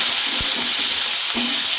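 Loud, steady sizzling of chopped onion frying in hot oil, with a few dull stirring knocks underneath, no talking.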